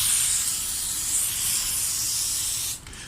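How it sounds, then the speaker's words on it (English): A continuous aerosol spray of water-displacing penetrating lubricant hisses onto double-edged Stihl hedge trimmer blades, loud and close for nearly three seconds, then cuts off abruptly with a brief final burst. "I'm just going to use some, you know, water penetrating spray here."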